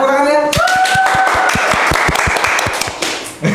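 A burst of hand claps follows a brief voice, quick sharp claps in an uneven rhythm from a small group, close and loud, fading out.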